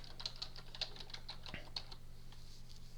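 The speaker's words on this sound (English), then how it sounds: "I can prove that by typing in aspects" Rapid clicking of keys on a computer keyboard, a quick irregular run of light taps over a steady low hum, fairly quiet and close.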